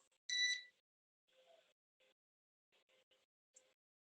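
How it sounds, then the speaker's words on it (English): A neighbor's electronic alarm gives one louder tonal beep, then several fainter, uneven chirps and beeps spread over a few seconds against near silence. "One of my stupid neighbors' alarm."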